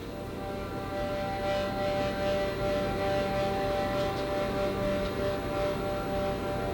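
Synthesized tones generated from energy pulses converted into MIDI notes, forming a sustained, droning wash of layered pitches with faint swelling pulses, steady and moderately quiet throughout.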